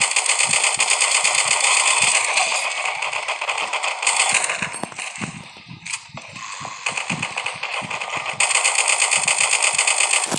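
Rapid automatic gunfire from the video game LifeAfter, dense repeated shots running almost continuously with a brief lull midway, loud and close.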